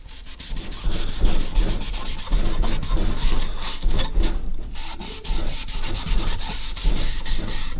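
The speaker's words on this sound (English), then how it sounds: "Got one sanding mark I'll clean up as I'm going over this with the sander." A power sander works over a paulownia wood guitar body, giving a steady, close, continuous rubbing and sanding drone with slight rhythmic pulsing throughout.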